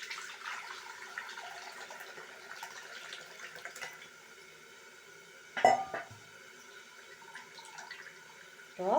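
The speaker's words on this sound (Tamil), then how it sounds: "அதை நல்லா தண்ணியாக கரைச்சி ஃபில்ட்ரு பண்ணிக்கிறோம்" Water sloshes and trickles faintly as tamarind is dissolved in water and strained, with a brief louder splash partway through and another at the end.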